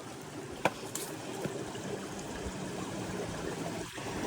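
Clear mountain stream water flows steadily on a forest trek in Meghalaya, a continuous close rushing and gurgling with a couple of brief sharp knocks early on and no talking.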